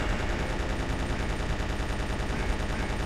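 Gatling gun firing continuously in the video game Resident Evil 3, a relentless rapid stream of shots forming a dense, unbroken roar at steady loudness.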